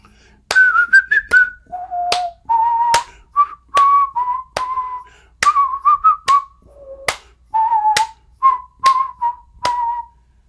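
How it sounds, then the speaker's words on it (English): A person whistles a bright melody of short held notes while sharp hand claps and taps mark a separate steady rhythm, close and clear with no talking. "let me tap out the rhythm and I'm going to whistle the tune"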